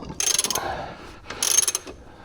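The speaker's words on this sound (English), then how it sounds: "I don't imagine I can use the ratchet just yet, but maybe I can. Yeah, I can." A ratchet is worked on the lower ball joint of a 2018 Chevrolet, making two close, loud bursts of rapid clicking separated by a brief pause, with no talking.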